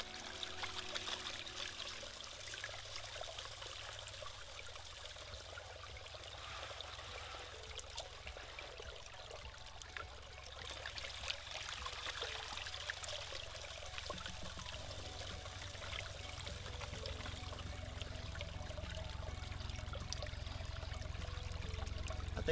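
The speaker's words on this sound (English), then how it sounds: "I might need more water flow." Water running through a gold prospecting sluice with sluice mats, expanded metal and carpet under the riffles, a steady soft trickling stream that carries on unbroken and swells slightly toward the end.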